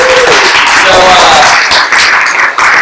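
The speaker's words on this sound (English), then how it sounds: "Round of applause." Audience applause at a live JavaScript meetup, a loud, dense burst of clapping from a room of people that fills the whole moment without pause.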